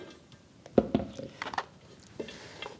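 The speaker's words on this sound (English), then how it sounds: "Drop our 8 cups of onions in." Chopped onions tumble into a bowl already seasoned with salt and pepper, a brief close clatter and soft thuds followed by lighter scraping as they are stirred.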